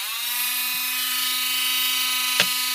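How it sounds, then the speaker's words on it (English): A small electric drill whining steadily as it drills a custom PCB for a nixie-lamp build, a close, continuous high-pitched hum with a brief harder bite near the end. "the drill's not very noisy, but it makes a modest amount of noise"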